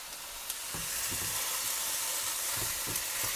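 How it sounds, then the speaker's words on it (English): Ground beef frying in a pan gives a steady close hiss of sizzling fat, marked by a few soft knocks from stirring. "Gonna also fry the meat for a little bit."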